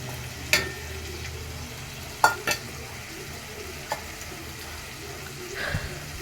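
Green chilies and tomatoes fry with tamarind in a pan, giving a low, steady sizzle under a few sharp utensil clinks and taps spaced through the clip.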